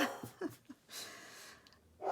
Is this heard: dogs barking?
yes